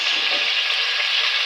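Potato pieces frying in a pan for aloo palak, a loud, close, steady sizzling hiss that stays constant for the whole short stretch.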